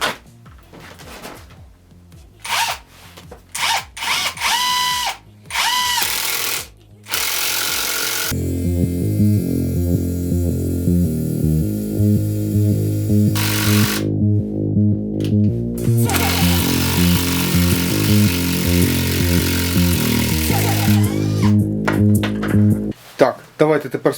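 Ronix impact driver backing out a screw, a loud sustained rattling hammer-and-whir that runs long and steady after shorter bursts, close up, with talk at the start.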